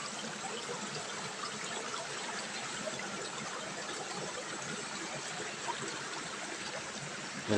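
Steady stream water flowing and trickling continuously, a close, even rush of shallow fresh stream water in Bicol, Philippines, with no voices.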